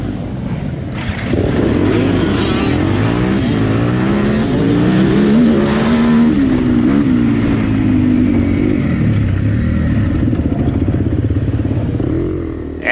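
Dead-engine start at a District 14 AMA hare scramble at Dutch Sports Park: a pack of dirt bikes fires up together and revs hard, engine pitch climbing and weaving in a loud, sustained roar that holds for the whole stretch.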